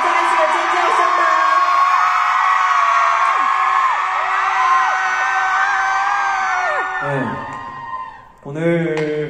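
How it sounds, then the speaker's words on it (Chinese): A crowd of fans at a concert in Taipei screams in a loud, sustained roar of high-pitched shrieks and whoops, dense and continuous, fading before a voice speaks at the end. "最后你们可以再次的尖叫声吗"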